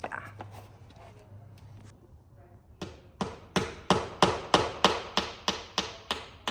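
A hammer strikes a nail to hang a piece of art, first a few light taps after quiet talk, then a steady run of about a dozen loud, evenly spaced blows close by.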